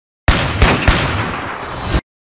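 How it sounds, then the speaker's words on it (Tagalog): A loud, booming gunshot effect bursts in abruptly, with several sharp cracks inside a dense, sustained roar that cuts off after nearly two seconds; no voices. "isang umaalingaw-ngaw na pagputok ng baril ang nagpatigil sa hayop na aswang"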